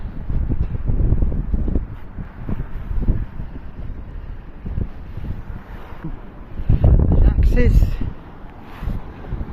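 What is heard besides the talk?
wind blowing on microphone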